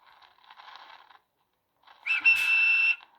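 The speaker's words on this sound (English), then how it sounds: "The guard blew his whistle" A railway guard's whistle blows once, a loud shrill blast lasting under a second, after a stretch of quiet background rumble.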